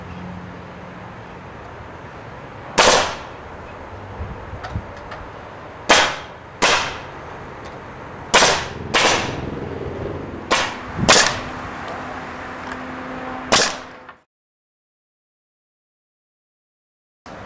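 A cordless nail gun fires clad decking nails into a timber pergola, about seven loud, sharp close-up bangs at uneven intervals over a quiet outdoor background, then silence at the end.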